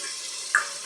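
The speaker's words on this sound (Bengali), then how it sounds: "এবারে ওই মিক্সি ধোয়া জলটাও আমি একটুখানি অল্প পরিমাণে দিলাম" A small splash of blender rinse water hits garlic paste and spices in a hot pan for a chicken curry, giving a brief hiss and sizzle that flares twice in under a second.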